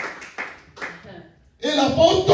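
Someone speaks briefly, then a church congregation breaks into applause, a sudden burst of many clapping hands that fills the last moments and grows steady.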